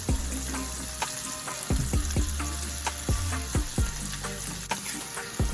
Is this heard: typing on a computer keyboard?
no